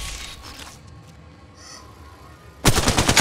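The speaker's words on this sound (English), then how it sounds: "Shooting! I'm spotted, taking fire." Rapid automatic gunfire from the Apex Legends Mobile battle royale game bursts in loudly near the end, a dense rattling string of shots after a quieter stretch of low background game ambience.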